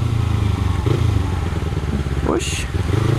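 A Kawasaki motorcycle rides along a street with a loud, close engine drone and road rumble, a brief rising whine partway through, and a rider's voice talking over it.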